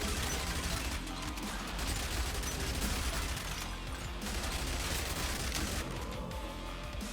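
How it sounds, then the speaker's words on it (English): Assault rifle gunfire in the zombie survival game Yet Another Zombie Survivors, a dense, continuous mechanical rattle of rapid shots layered with game effects, steady and loud throughout with no break. "Oh yeah, assault rifle."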